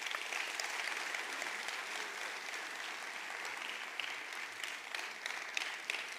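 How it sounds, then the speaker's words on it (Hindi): A seminar audience at a business growth session claps steadily and loudly for the whole stretch, a dense, continuous wash of many hands with no voices over it. "सर प्लीज, एक जोरदार तालियां होनी चाहिए,"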